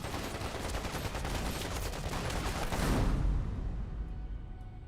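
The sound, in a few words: gunfire exchange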